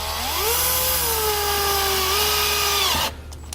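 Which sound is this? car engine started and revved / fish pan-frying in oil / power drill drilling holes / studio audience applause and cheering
power drill drilling holes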